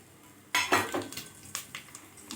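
Whole cinnamon, cloves, cardamom, bay leaf and fennel seeds dropped into hot oil in a pressure cooker for mutton biryani, giving a sudden burst of sizzling followed by scattered crackles and light metallic clinks, close by.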